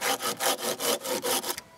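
Rapid back-and-forth rasping strokes of a Bahco Laplander 396-LAP folding hand saw cutting through wood at a country house, close and steady, ending abruptly as the cut finishes.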